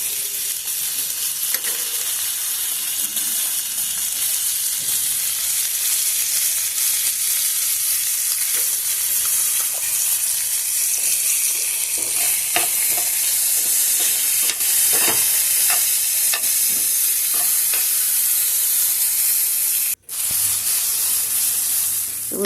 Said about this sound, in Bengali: ক্যাপসিকাম আর টমেটোটা একটু ভাজা ভাজা করে নেব